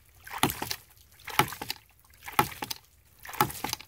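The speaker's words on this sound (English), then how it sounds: "Got the ram pump running." A 1-1/4 inch ram pump runs with regular knocking pulses about once a second, each a sharp close thump followed by a brief wet slosh.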